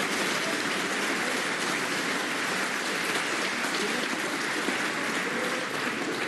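Sustained applause from a snooker crowd at the World Grand Prix 2020 final, a dense, steady patter of clapping that holds at an even level throughout without a break.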